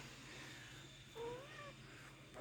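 A pet cat gives one short, faint meow in the middle, over a quiet indoor background.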